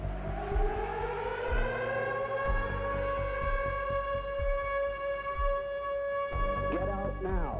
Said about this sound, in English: the haunting siren and alert